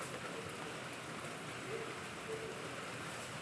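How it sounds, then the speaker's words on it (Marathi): Heavy, wind-driven rain pouring outdoors with a dense, steady hiss of drops on surfaces, continuous and fairly close, with no speech. "पाऊस लय मोठा झाला"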